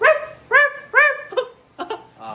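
A person imitates a dog barking, giving four or five short, loud voiced woofs in a quick, uneven sequence.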